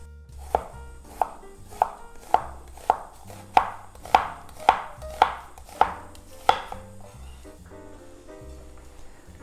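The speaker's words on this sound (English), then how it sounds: "Let's slice the onion." An onion is sliced on a cutting board with about eleven crisp, evenly spaced knife chops in a steady rhythm. The chops are close and clear, then trail off into quiet near the end.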